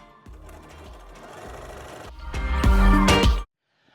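Sewing machine zigzag stitching white fabric onto black for a unitard skating costume, a soft low whir at first that builds into a loud, fast continuous stitching run, then cuts off sharply.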